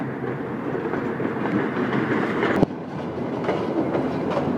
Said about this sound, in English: There's another Rotom! And another train is leaving the station!